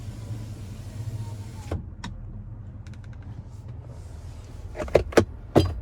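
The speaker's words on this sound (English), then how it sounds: "rear sliding window." The power rear sliding window of a 2022 Chevrolet Silverado 2500HD Duramax LTZ, a motor whirring for a couple of seconds, then stopping with a thunk, followed later by a few sharp clicks and knocks inside the cab.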